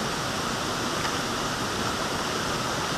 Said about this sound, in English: I've got a creek I can hear down in the bottom